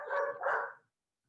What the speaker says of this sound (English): Do you hear those dogs barking in the distance?